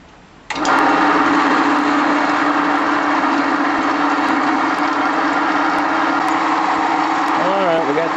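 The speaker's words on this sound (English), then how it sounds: "we got this in the bandsaw here. Gonna let this finish cutting." A bandsaw cuts through a metal spacer for a transmission mount: the motor starts abruptly, then gives a loud, steady, buzzing whine with sharp ticks over it, running continuously to the end.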